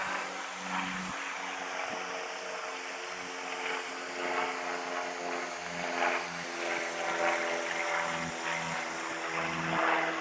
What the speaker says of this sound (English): Little plane flying above.